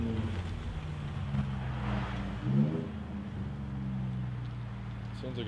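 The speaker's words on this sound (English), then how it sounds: "Sounds like a race Ford." A brand new Ford car speeds past on a road in a cold winter setting, its engine swelling briefly then fading, heard at some distance beneath a voice talking nearby.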